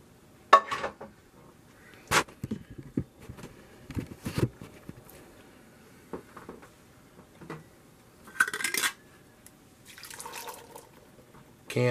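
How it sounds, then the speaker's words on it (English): Ground beef dumped into a pan while making taco soup, giving a few scattered soft thuds and wet splats with quiet pauses between them and a brief sizzling burst near the end. "So I'm gonna dump my ground beef in the pan here."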